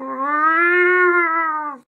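A cat lets out a single long, drawn-out meow, loud and close, with a clear tonal cry that rises slightly and then fades out, with nothing else heard.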